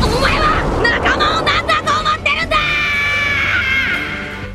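Luffy from the anime One Piece lets out an angry, sustained yell, loud and strained, rising over a noisy battle with shouting and clashing, then trailing off.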